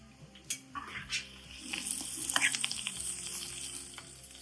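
Food frying in a pan, a close crackling sizzle that swells in the middle with scattered spoon clinks and scrapes, fairly quiet overall.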